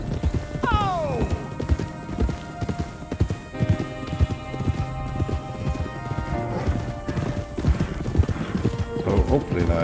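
Horse hooves clip-clop steadily in Red Dead Redemption 2, with a whinny near the start, all over game music and a talking voice.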